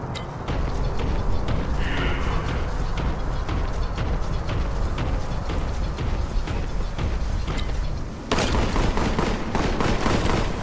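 Relentless, loud gunfire from a shotgun in the retro shooter game Warhammer 40,000: Boltgun, with rapid repeated blasts merging into a near-continuous roar, then a sharp louder burst near the end.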